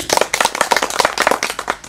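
An audience at a Maithili folk stage show claps loudly and rapidly in uneven bursts, close and sharp, with no talking over it.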